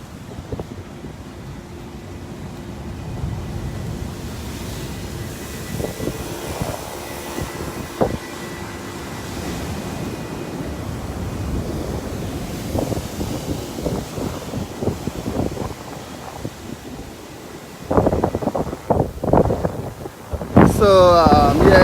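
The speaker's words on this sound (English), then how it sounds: "as you can hear the water pounding very, very hard" Heavy sea waves from Tropical Storm Karen roar against the shore in a continuous rumbling surge. Strong wind buffets the microphone throughout, and louder crashing bursts come near the end.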